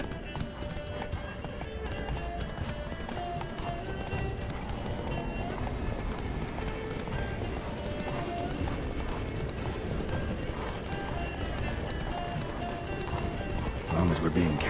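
The horse Roach gallops in The Witcher 3, with a continuous rapid drum of hoofbeats throughout while voices talk over the running.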